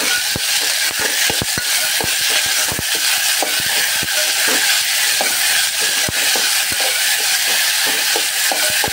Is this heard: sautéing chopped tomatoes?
yes